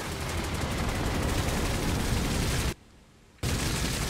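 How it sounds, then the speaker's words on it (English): Carpet bomb airstrike in the game Cepheus Protocol: a dense, continuous roar of overlapping explosions and rumbling blasts, loud and sustained, cutting out abruptly for under a second before the barrage resumes. "Carpet bomb incoming. Take a look at the carpet bomb."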